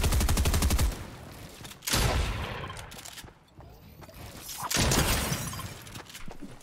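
Bursts of rapid automatic gunfire in Fortnite in short volleys, loud and close, with quieter game noise between them.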